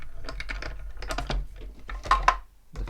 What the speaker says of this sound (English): we're gonna die cut that now